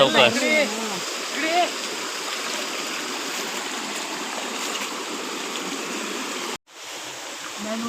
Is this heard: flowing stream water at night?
yes